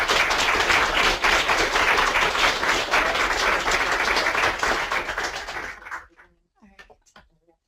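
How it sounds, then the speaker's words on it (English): A room audience at an environmental law summer school session applauds its speakers with dense, sustained clapping for about six seconds. The applause then tapers off into a few scattered claps and quiet room sounds. "let's give a quick round of applause for our speakers"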